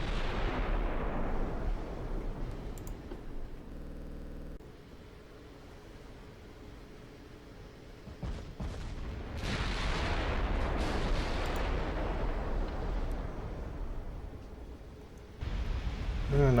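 Naval artillery fire in Ultimate Admiral Dreadnoughts, a US super battleship taking concentrated fire: heavy gun blasts and roaring impacts that rise and fade, with a dense rumbling barrage bursting in again near the end.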